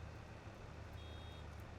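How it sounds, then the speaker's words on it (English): A baler in Farming Simulator 22 beeps as it nears full, a faint steady electronic pulse repeating over a continuous low tractor engine drone throughout. "once it starts beeping, you know it's about full"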